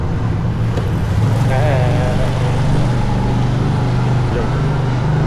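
Motorbike riding along a road, a steady engine drone mixed with wind rush and road noise close to the rider, with a brief whiny rising tone partway through.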